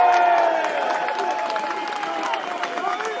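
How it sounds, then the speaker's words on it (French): Crowd at a National Front political rally in the Vaucluse claps and cheers for a mayor, a dense roar of applause with voices calling out in it. "vous pouvez l'applaudir"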